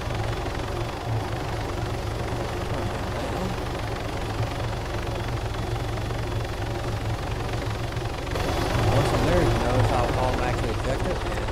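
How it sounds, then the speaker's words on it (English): A video game helicopter drones with a steady rotor and engine roar that swells louder near the end as it sets down, with no talking. "Eject it, and there goes the helicopter, and he will go back to the starting position."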